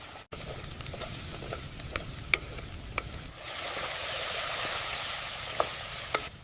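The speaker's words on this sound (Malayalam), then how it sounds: "ഇനി നമുക്കിതിലേക്ക് 1 ടേബിൾ സ്പൂൺ കുരുമുളക് പൊടി, 1 ടേബിൾ സ്പൂൺ ഗരം മസാല എന്നിവ ചേർത്തിളക്കി വേവിച്ചു വെച്ച ബീഫ് ചേർക്കാം" Beef fry cooking Kerala style with onions, pepper powder and garam masala, stirred in a frying pan: a steady close sizzle with scattered utensil scrapes and clicks, the frying hiss swelling louder in the second half.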